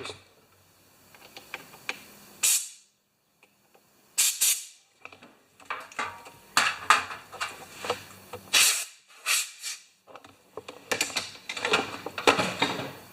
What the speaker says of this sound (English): Squirt a little air on that.